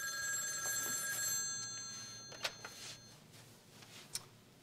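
A telephone bell rings indoors, with a steady harmonic ring through the first second and a half, followed by a few faint clicks and handling taps at moderate volume.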